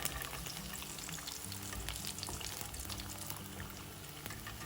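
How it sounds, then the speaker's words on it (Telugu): Semiya bonda, vermicelli fritters, deep frying in hot oil, a faint steady crackling sizzle with small bubbling pops throughout, no voices. "క్రిస్పీగా అయ్యే వరకు వీటిని వేయించుకోవాలి."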